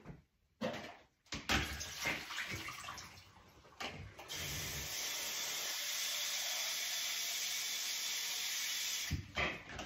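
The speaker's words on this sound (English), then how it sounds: "Then I dump the water out and put fresh water in." Water is dumped out of a film developing tank and then refilled from a tap, with a few splashes and clunks followed by a steady hissing stream, close and moderately quiet.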